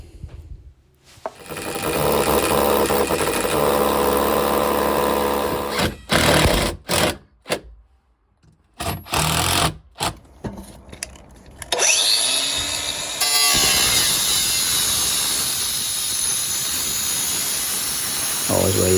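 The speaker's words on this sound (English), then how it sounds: "This diamond blade that I've had in this angle grinder must be 8 years old." An angle grinder fitted with an old diamond blade cuts during a boiler install job: a loud, steady high whine broken by several short bursts and pauses, then a long rough grinding stretch at the end.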